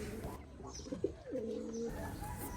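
A pigeon coos softly on a pigeon farm, a single low, drawn-out warbling call heard close and alone against faint background noise.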